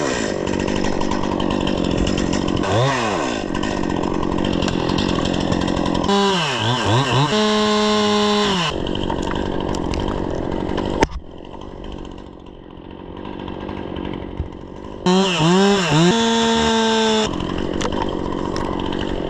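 A chainsaw cuts a felled tree into 8-foot log sections for milling into live edge slabs, its engine revving up and dropping back in repeated loud bursts, idling between cuts, with no talk.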